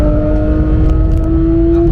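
A Porsche Cayman GT4 engine drones on the Nürburgring track, a loud, steady hum with a sustained tonal whine that holds its pitch, close and continuous for the whole moment.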